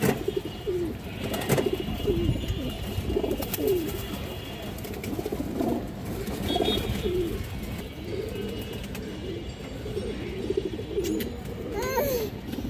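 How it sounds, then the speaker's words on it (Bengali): Pigeons kept for sale, including a green-necked male, coo repeatedly in soft throaty phrases that overlap nearby, with faint voices in the background. "সবুজ গলা নর কবুতর আছে"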